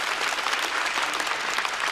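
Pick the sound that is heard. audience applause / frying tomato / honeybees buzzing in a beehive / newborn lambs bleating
audience applause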